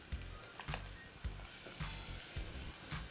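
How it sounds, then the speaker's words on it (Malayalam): Chopped ginger, garlic and green chilli frying in hot oil, a steady close sizzle punctuated by regular knocks of a spoon stirring against the pan. "അപ്പോൾ എണ്ണ ചൂടായി വന്നിട്ട് നമുക്ക് ഇതിലേക്ക് ഇട്ട് കൊടുക്കാം."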